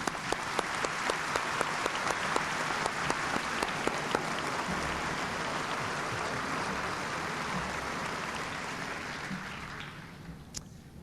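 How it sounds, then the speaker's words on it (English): A high school commencement audience standing for a round of applause, dense sustained clapping from a large crowd with a few crisp individual claps on top, continuing for about ten seconds before dying away. "Would you all please stand for one round of applause?"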